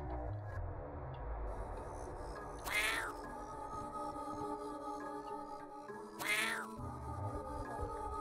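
A cat in the video game YIIK gives two drawn-out rising meows several seconds apart, each loud and clear over a quiet synthetic game backdrop.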